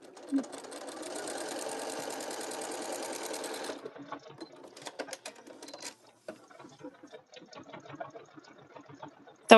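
A sewing machine fitted with a walking foot stitches at a steady fast rhythm for about four seconds, then stops, followed by scattered handling clicks and light rustling.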